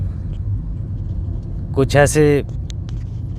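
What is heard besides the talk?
car driving on a journey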